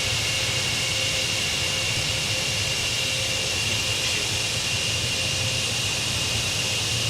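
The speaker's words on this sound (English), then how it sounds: "Good engine starts if you can hear me" Concorde jet engines spooling up in a flight simulator game, a steady loud broadband roar with a thin whine held throughout, no talk over it.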